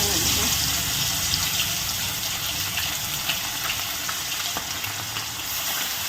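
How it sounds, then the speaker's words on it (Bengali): Loud, steady sizzling and crackling of fish frying in hot oil, continuous throughout. "এরপরে মাছ ভাজা"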